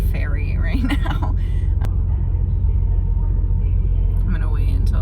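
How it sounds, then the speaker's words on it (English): Ferry engine noise, a steady low rumble filling the background throughout while someone talks quietly over it, with a brief sharp sound partway through. "Hopefully you guys can hear me okay over the noise of the ferry right now."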